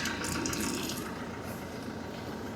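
Water running steadily from a clogged aircon drain hose in a car, a continuous close splashing trickle with no talk over it.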